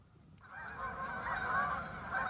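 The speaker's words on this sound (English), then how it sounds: "I'll blame my limp for scaring off the geese" Geese give a run of nasal honks outdoors, starting after a brief quiet moment and then continuing in overlapping calls at moderate distance.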